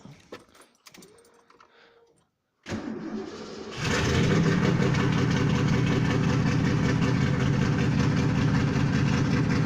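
A straight-piped Ford Mustang with side-exit exhaust, long parked in a barn, cranks over after some faint rattling, catches with a loud burst and settles into a steady, rough, loud idle.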